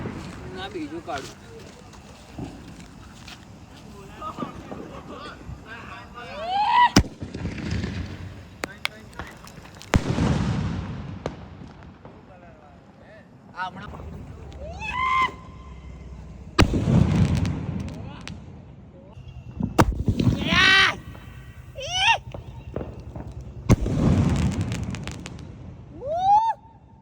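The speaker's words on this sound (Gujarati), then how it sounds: "અને કાનાભાઈ ફટાકડા ફોડે છે" Diwali firecrackers go off outdoors in about six loud, booming bursts spread over the stretch, some preceded by rising whistles, while people talk between the blasts.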